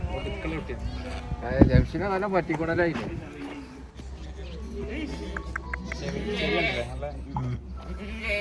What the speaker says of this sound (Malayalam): രണ്ട് ദിവസം പ്രായമായ ഒരു ആട്ടിൻകുട്ടിയാണിത്.